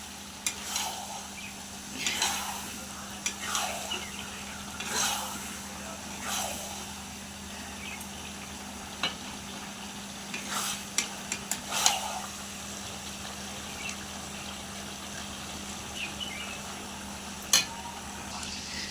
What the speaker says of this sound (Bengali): এখন একটু ফুটতে থাকুক।